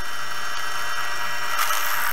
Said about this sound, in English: We're drilling out a hole for some leather strapping to go on there so you can hang it up.